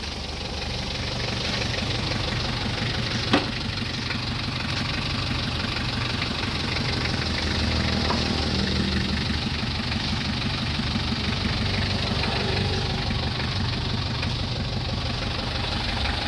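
A 2006 L300 pickup truck's diesel engine, fitted with a GS Racing exhaust, idles with a steady rattling clatter, close and constant, its low knocking rhythm continuing unbroken throughout.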